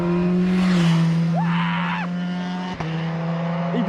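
A Derbi 50cc moped passes nearby, its high buzzing engine rising and falling, while a louder steady engine drones close by throughout and people talk briefly.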